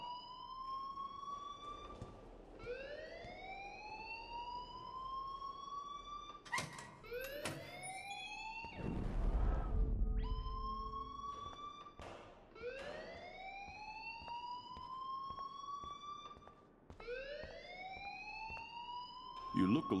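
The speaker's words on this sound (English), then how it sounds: "please turn off that alarm since that's your job" School fire alarm in the video game Life is Strange, a repeating rising electronic whoop sounding over and over in a steady cycle, with people talking and a loud burst midway.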